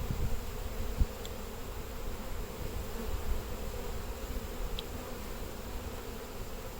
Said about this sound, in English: Maybe these are super swarming bees.